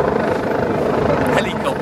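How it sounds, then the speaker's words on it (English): A helicopter's steady throbbing drone fills the air overhead during a police action at a 2014 Occupy protest, loud and continuous, with a voice speaking over it. "Helicopter."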